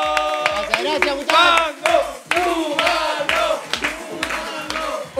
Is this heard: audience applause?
yes